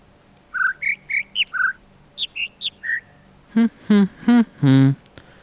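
Synthetic bird chirps from an audio puzzle in the video game The Witness: a run of short, clear whistled tweets at varying pitches, then four lower, buzzier squawk-like calls, each distinct and separated by brief gaps.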